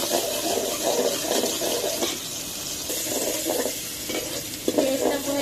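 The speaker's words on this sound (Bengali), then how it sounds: "পেঁয়াজটা ভেজে নেব" Onions with a spoonful of salt fry in a pan for a hilsa fish curry, a loud, continuous hiss and sizzle with faint stirring scrapes and no talking.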